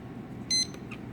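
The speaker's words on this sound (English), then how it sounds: "we're gonna set the timer to start going" Laboratory timer giving a single short, high electronic beep as it is started, followed by a fainter blip, over quiet room hum.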